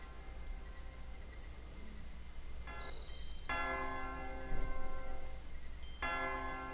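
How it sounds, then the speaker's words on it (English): A church bell in the King's Quest 2 video game strikes a few times, each tone ringing out and decaying over a low background hum and faint ticking. "The church bell."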